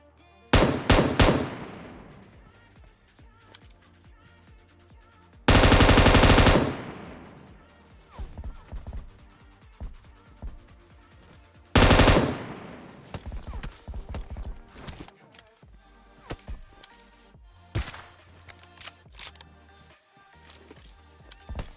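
Gunfire in the video game PUBG: loud close bursts of automatic fire and single shots spread unevenly across the stretch, with long sustained volleys and quieter game sounds between them.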